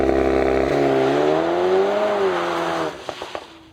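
A 2023 VW T-Roc R facelift with 300 hp launching hard on launch control, the engine note climbing loud and close through the revs before cutting off, followed by a few short sharp pops.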